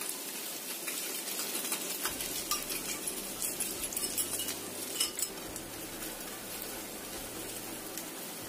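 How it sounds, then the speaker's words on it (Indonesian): Egg poured over browned garlic in a frying pan, a soft steady sizzle with light clinks of a utensil against the pan, fairly quiet and without talk. "Kemudian kita tambahkan telurnya. Kita tuangkan di atasnya."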